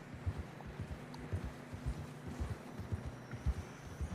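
Horses walking through snow in Red Dead Redemption 2, with soft, steady hoof thuds in a plodding rhythm, fairly quiet, over a faint wind hiss.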